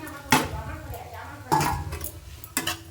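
Spatula scrapes and clinks against a pan while fried potatoes and egg are stirred together for a pasta dish, three sharp bursts of metal-on-pan contact with quieter frying in between.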